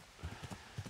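A horse's hooves clop in an irregular walking rhythm, close and moderately loud, in the medieval video game Kingdom Come: Deliverance. No clear whinny stands out.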